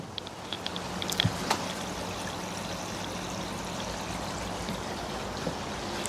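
Garden koi pond water trickling and pouring into a small test jar, a steady soft flowing sound with a few light clinks near the start.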